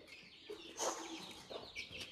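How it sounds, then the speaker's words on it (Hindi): Chicks and hens cluck softly nearby in a small backyard flock, with a few short calls and faint chirps rising over a quiet background. "वो एक उधर घुस गया चूजा।"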